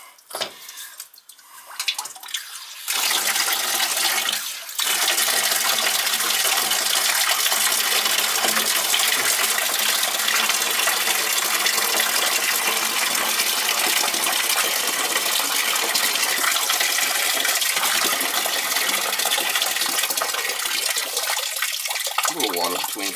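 After a few quiet seconds and a brief burst, water gushes forcefully out of a leaking boiler relief valve in a loud, continuous rushing spray that holds steady until the end.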